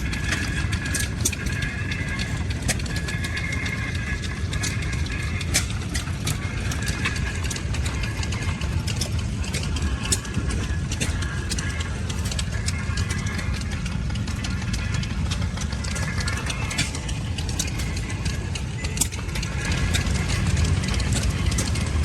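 A chain-driven steam traction engine at an outdoor steam show runs continuously, its clattering mechanism and steady rhythmic chugging loud and close throughout, with no talking.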